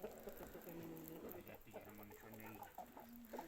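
Several roosters cluck and murmur in low, throaty bursts, fairly quiet, with soft background farmyard noise.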